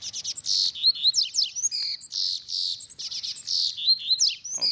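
Coleiro seedeaters, two caged birds and a free wild one, sing loud and close in bright, rapid trilling phrases with sweeping chirps that repeat almost without pause.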